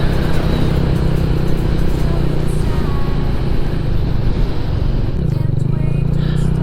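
A 125cc motorcycle accelerates under a responsive throttle with a steady, loud engine drone, the pitch dipping briefly as the rider works the clutch and then climbing again.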